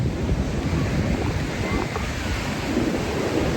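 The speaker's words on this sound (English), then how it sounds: "There is space between those rocks and water's got to rush out." Seawater at high tide rushing between rocks along a flooded coast, a steady close roaring wash mixed with wind noise on the microphone.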